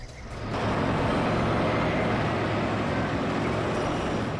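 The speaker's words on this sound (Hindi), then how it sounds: "ट्रक भी आ गया।" A truck rolls up in a crime-drama street scene, its broad, steady engine rumble and road noise swelling in after a brief quiet start and holding loud and continuous to the end.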